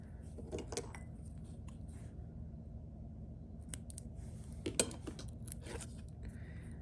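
Scissors snip through craft material from a bumble bee glitter magnet kit, a few quiet close cuts and clicks over a low steady background hum.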